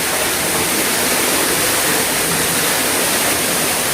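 Kipot Falls in Sitio Caniogan, San Joaquin, Iloilo, roars with a dense, steady rush of falling water, loud and close, unbroken throughout.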